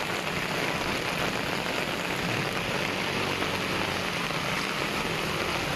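Sudden heavy rain in Masbate pours down steadily, a dense unbroken roar of drops hitting surfaces close by, loud and constant throughout with no voices.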